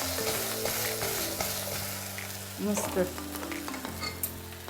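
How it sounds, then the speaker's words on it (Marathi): Brinjal pieces cooking in a pan are stirred with a spoon, with steady scraping and shuffling over a soft sizzle; someone says a short word. "आणखीन एकदा आपण हे वांगे मिक्स करून घेऊया."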